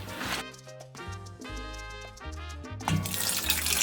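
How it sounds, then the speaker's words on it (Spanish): Water running steadily from a tap while chopped cabbage is rinsed with salt and squeezed in a kitchen, a continuous splashing flow that grows louder and brighter toward the end. "Le vamos a sacar el agua al repollo."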